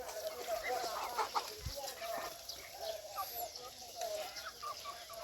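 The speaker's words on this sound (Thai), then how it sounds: "ไก่หัวฟู ซิลกี้" White fluffy-headed silkie chickens cluck softly on a farm, faint intermittent calls over a steady outdoor background with no speech.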